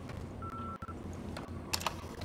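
Telephone keypad tones from dialing a phone in the video game Far Cry 5, a few short beeps close up over a low background hum.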